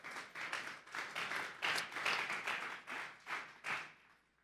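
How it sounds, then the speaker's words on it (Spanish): A church congregation applauds during a sermon, producing quiet, somewhat distant clapping that rises and falls in uneven waves for several seconds before fading away. "Vamos a darle un fuerte aplauso al Señor esta tarde"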